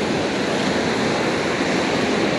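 Ocean surf roars steadily on a beach during winter surf fishing, a dense, continuous wash of breaking waves with some wind noise and no voices.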